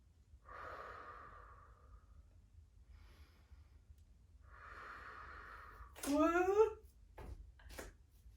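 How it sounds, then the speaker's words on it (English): Three slow breaths held in a yoga balance pose: two long, soft exhales about three seconds apart, then a shorter, sharper breathy sound that wavers as balance is lost, all close and quiet with no talk. "We're gonna bring it out to the side and 3 big breaths here."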